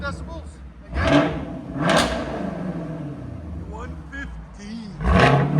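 Loud, close revving from a 2022 Chevy Camaro LT1 V8 running an MBRP cat-back exhaust: three quick throttle blips roar up and drop back over a steady burble, with voices chatting over the engine.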